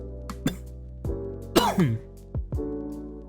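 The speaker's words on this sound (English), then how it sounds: "I apologize for the coughing." A few separate coughs and throat-clearing sounds from one nearby person, spaced out with short quiet gaps between them.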